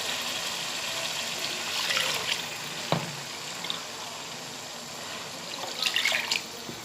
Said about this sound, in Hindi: तकरीबन 3 कप पानी डालेंगे